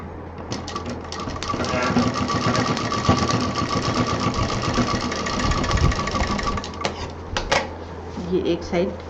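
A sewing machine stitches the side seam of a tote bag with a fast rhythmic mechanical chatter, moderately loud and close, running in bursts while a person talks over it.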